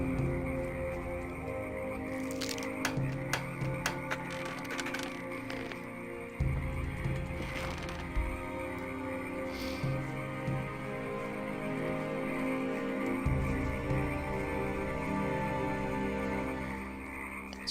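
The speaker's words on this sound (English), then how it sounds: "So many frogs or toads or whatever in the soundtrack right now." Frogs or toads croak continuously as ambient sound in Gothic 2, a dense chorus of overlapping croaks over a steady background, with no talking.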